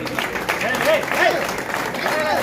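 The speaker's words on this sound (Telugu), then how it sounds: "అందరూ చప్పట్లు కొట్టండి." Applause from an audience at a Telugu gathering, a steady patter of clapping heard beneath voices and crowd chatter.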